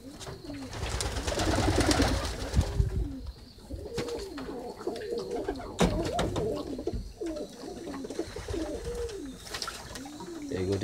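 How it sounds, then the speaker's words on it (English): Roller pigeons bathing in a shallow pan of saline water coo repeatedly and close by, with broadband bursts of wing-splashing throughout. "I want to show you the roller pigeons taking bath."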